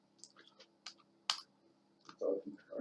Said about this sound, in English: He pretty much sits in the conversation silently on his laptop, typing away, writing what each party says.